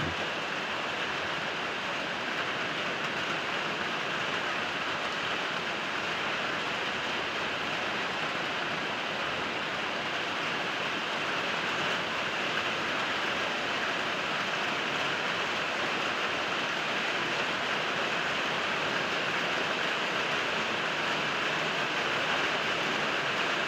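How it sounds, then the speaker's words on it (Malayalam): Heavy morning rain falling steadily over a Kerala homestead yard, a dense continuous hiss with no breaks, moderately faint and even throughout. "ഇന്ന് രാവിലെ തന്നെ നല്ല മഴയാണ്."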